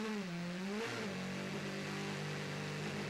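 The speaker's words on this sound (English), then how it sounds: "you hear the engine revving as he gets a bit of wheel spin coming out of the pits." DTM race car engine revving hard as the Red Bull Audi spins its wheels leaving the pits at the Nürburgring, a loud rising then falling whine followed by a sustained high-revving drone.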